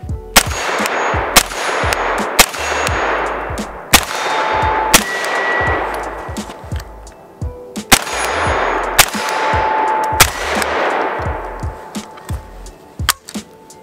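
A CZ Scorpion Evo 3 S1 is fired as a pistol on an outdoor range, letting off sharp, loud single shots spaced a second or so apart, each with a ringing metallic tail, and no talk.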